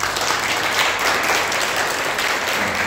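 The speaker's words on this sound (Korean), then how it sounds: "잠깐만 일어나 주시면 큰 박수로 환영하겠습니다." A church congregation applauds to welcome a visiting missionary: loud, steady, close clapping from many hands that fills the room without pause.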